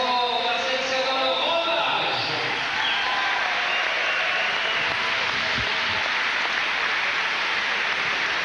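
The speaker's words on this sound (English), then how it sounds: "the crowd, I think, applauding Thomas' bravery as much as they're applauding" A boxing arena crowd applauds after a fight, a dense, steady wash of clapping and cheering that fills the whole stretch, with a commentator talking over it.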